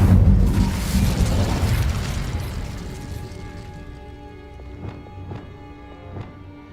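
The Incendio fire spell cast in Hogwarts Legacy bursts as a loud, broad whoosh of flame that fades over several seconds, followed by a few crisp metallic clinks ringing out as the tail dies away.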